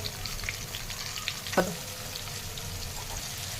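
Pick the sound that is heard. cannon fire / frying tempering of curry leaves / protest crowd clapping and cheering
frying tempering of curry leaves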